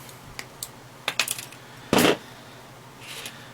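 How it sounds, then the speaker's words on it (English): A battery wire on a Flywing 450 radio is snipped with cutters, giving a few small clicks before one sharper, louder snap near the middle, then faint handling rattles in an otherwise quiet setting. "I don't need all this battery, so I'll cut it right here."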